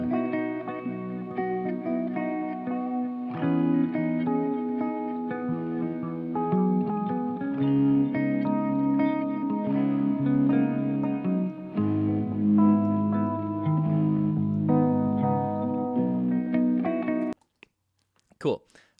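Electric guitar run through a distortion effect, playing sustained, saturated chords and notes with a thick harmonic buzz, loud and steady for about seventeen seconds before cutting off abruptly.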